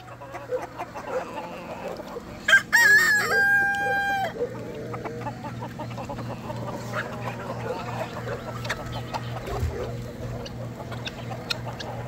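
Free-range chickens cluck softly throughout, and a rooster crows once loudly and close by, with scattered bird calls and a low steady hum underneath.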